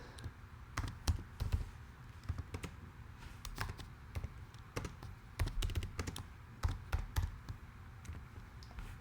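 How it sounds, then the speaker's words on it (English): Typing on a computer keyboard while entering text in Photoshop: a steady run of close, crisp key clicks with uneven rhythm, some keystrokes louder, with no voices. "I'm going to type something else in there"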